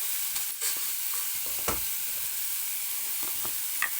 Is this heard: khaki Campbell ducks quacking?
no